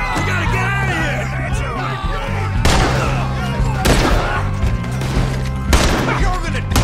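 Gunfire from a shootout in Red Dead Redemption 2, with sharp loud shots cracking out every second or so over a music bed and busy game noise, while voices call out at the start.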